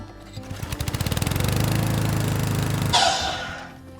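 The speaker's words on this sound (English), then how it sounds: "let's scoot over to the miter box and cut this thing down." A hand saw cuts a board in a miter box with quick, steady back-and-forth strokes that build to a dense rasp, then a short sharp scrape as the cut finishes, close and alone.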